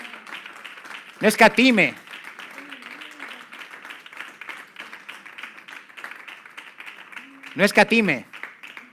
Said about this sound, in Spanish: Den un aplauso al Señor fuerte.